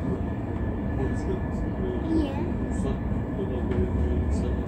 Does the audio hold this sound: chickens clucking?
no